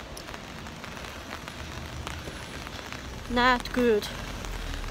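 Cold outdoor rain patters steadily on surfaces, a soft continuous hiss, while a person speaks briefly near the end.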